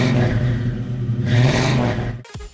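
A Scion FR-S engine with an exhaust revs loudly nearby, rising and falling in a throaty roar before a sudden clunk cuts in at the end.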